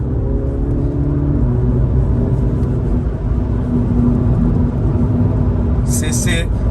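A small go-kart driven on a road, its engine a steady near rumble with a constant whirring hum, someone talking over it throughout.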